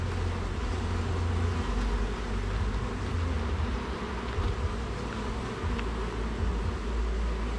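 Honeybees buzz steadily and closely around a hive frame being lifted during a honey harvest, with a dense continuous drone and no talk.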